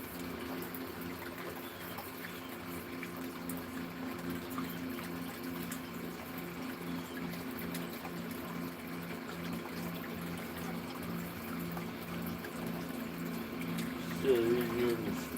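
Water pours and gushes steadily for gold panning, a continuous running, pump-like flow that holds at an even level throughout and swells briefly near the end.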